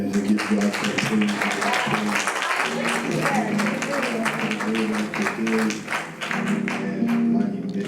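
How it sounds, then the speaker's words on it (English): Congregation clapping at a church service, a dense steady patter of many hands close by, with voices and music-like tones running underneath throughout. "Somebody clap those hands and give God some praise."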